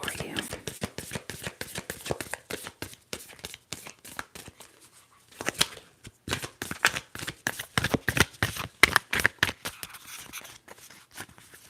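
A Moonology tarot card deck being shuffled up close, rapid crisp riffling flutters and soft card slaps in repeated bursts with a short pause midway, quiet and intimate.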